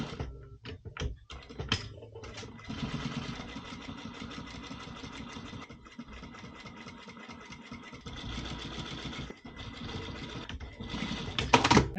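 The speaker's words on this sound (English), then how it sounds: "then we go over again as before with the normal lock stitch machine again." A lock stitch sewing machine stitching a waterproof softshell jacket, running in bursts of fast rattling chatter broken by short pauses and clicks, close and moderately loud.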